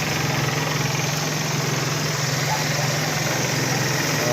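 A small engine, just repaired after water mixed into its oil, idles steadily with an even buzzing throb at close range, running continuously without a break.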